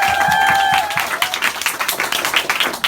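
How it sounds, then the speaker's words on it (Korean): An audience at a business seminar for shop owners breaks into loud, sustained applause, the sharp claps dense and fairly close, with a brief voice heard at the start. "다시 한번 큰 박수 부탁드리겠습니다"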